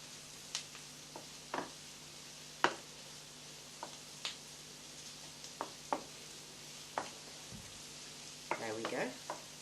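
Mushrooms frying in a pan for risotto while being stirred: a low steady sizzle with scattered sharp clacks of the utensil against the pan, coming every second or so and bunching into a quick clatter near the end. No voices.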